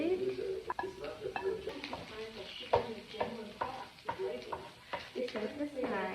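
Onion and garlic sizzle in a pan for chicken afritada while a utensil stirs and scrapes through them, with frying hiss and irregular clinks at close range.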